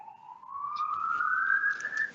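An ambulance siren wails in the distance, one long steady rising tone sweeping upward over a couple of seconds, faint but clear with no talk over it.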